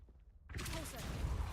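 A Confringo blasting spell cast in Hogwarts Legacy erupts suddenly after near silence, a loud burst that rolls into a sustained crackling rumble.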